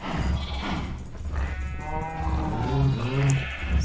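Sheep bleat and cows moo in Minecraft while being fed wheat, several close overlapping animal calls above a steady background.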